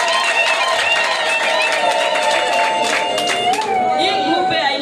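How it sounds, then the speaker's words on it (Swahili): A crowd at an Independence Day anniversary gathering claps in a steady, continuous applause, with tonal background music running underneath throughout. "Ba mama tunaweza kupigia makofi tena."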